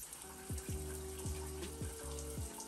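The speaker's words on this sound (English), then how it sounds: "I'm about to hop in the shower now." A running shower hisses steadily and close by, with faint repeating hums and knocks beneath the spray and no voices.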